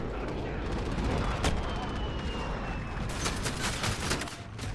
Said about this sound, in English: They're all using shotguns.